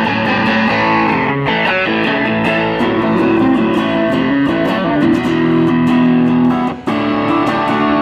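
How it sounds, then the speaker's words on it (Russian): An electric guitar with single-coil pickups runs through an overdrive pedal for a crunchy tone, playing loud sustained chords and riffs with a few short breaks, alone with no speech. "Перегруз, это у нас тоже как кранч,"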